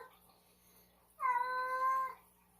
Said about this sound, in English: That's a different cat. Meowing.